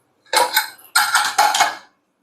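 A pressure cooker pot set down on a kitchen stove while cooking chicken curry, giving two short bursts of metallic clanking and scraping, close and fairly loud, with no talk.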